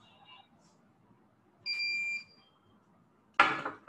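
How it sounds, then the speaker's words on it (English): A contactless wall-mounted thermometer gives off a brief electronic beep during an error warning, with a sharp burst of noise closing the short stretch in a quiet room. "this is giving me a error, which is like 5 beep and a red bar"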